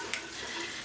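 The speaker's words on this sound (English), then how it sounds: "Oh, I've got to wash my hands." Water runs from a tap into a sink for hand washing, a steady, faint rush with no talk.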